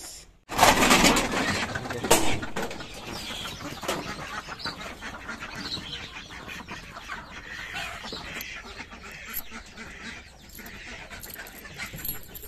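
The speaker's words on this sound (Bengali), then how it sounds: "আমি হাঁস মুরগিগুলো সাইরে দিই" A busy flock of ducks and chickens clucking and quacking over one another, close and continuous, with a louder burst near the start.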